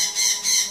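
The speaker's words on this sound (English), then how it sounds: "Oh my god, bird. What are you doing?" A pet bird gives two short, loud, shrill squawks close by, one right after the other.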